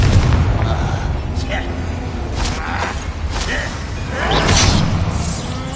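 A Confringo fire spell blasting in Hogwarts Legacy, a loud booming burst with whooshing fire over busy combat noise and a voice.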